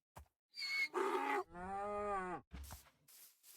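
A Minecraft donkey brays loudly and up close, a few harsh hee-haw bursts with one long drawn-out wail in the middle, heard alone.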